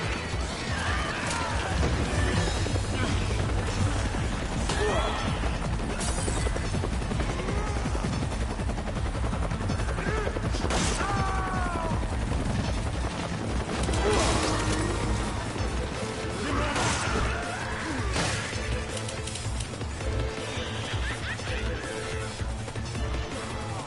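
Continuous heavy gunfire in the Resident Evil 5 video game, rapid automatic bursts and crashes layered into a loud, dense barrage with no letup for over twenty seconds.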